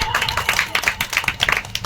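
Clapping and cheering from an audience at a school Teacher's Day program after a song, dense and lively, with some voices mixed into the noise.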